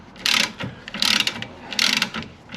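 Ratchet wrench undoing a rear shock absorber bolt on a Vauxhall Suzuki after penetrating oil, giving three close bursts of rapid clicking with brief pauses between strokes.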